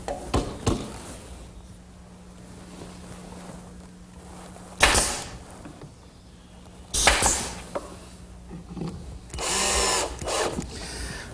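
A power drill drives screws through a hardwood cleat into the side supports of a chestnut desk, with several loud bursts of whirring spaced across the stretch and quieter workshop noise between them.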